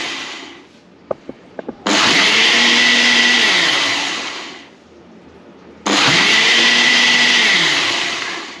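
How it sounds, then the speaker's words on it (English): Blender puréeing soft vegetable soup, a few small clicks then two loud whirring bursts of several seconds each, the motor pitch dipping as it churns and winding down between them. "blending up some soup here"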